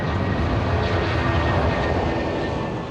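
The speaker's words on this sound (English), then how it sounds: "At around 140 miles an hour, the Boeing lifts clear of the runway." Boeing airliner taking off from Bristol Airport at around 140 mph, a loud, steady roar of jet engines filling the whole clip with broad rumbling noise and no voices.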